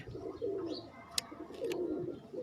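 Pigeons on a rooftop loft give soft, low cooing calls in two drawn-out phrases, fairly near, over a faint outdoor background with a brief click.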